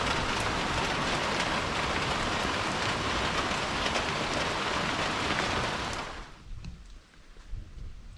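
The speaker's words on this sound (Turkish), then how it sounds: "Yağmur şimdi biraz hafifledi" Heavy rain pours steadily in a dense hiss, then eases abruptly near the end, leaving scattered drips and quieter patter.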